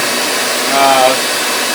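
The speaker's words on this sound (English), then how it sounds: "Alright, the vacuum's going already." A shop vacuum runs in a woodworking shop, a steady, loud, broadband whooshing drone held throughout with no talk over it.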